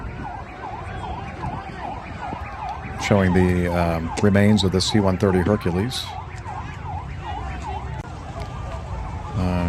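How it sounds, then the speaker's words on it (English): Wailing emergency sirens rise and fall in quick repeated cycles, with a louder, closer siren passage partway through while someone talks over it. "We got some sirens"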